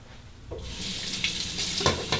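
A razor rinsed under a running bathroom tap, a steady close rush of water with brief splashy spikes as the blade passes through the stream.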